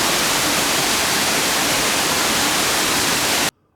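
A loud, steady rushing roar of falling water from a waterfall in the gharial exhibit at the Bronx Zoo's Jungle World, continuous and broadband, cutting off abruptly near the end.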